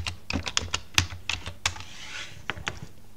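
A computer keyboard is typed on during a Windows 11 setup, with a quick run of sharp, irregular key clicks close by, followed by a few scattered final taps.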